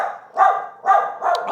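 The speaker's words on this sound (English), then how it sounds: "Sorry, that was my dog barking." A dog barks three times in quick succession, close and fairly loud, with short pauses between the barks.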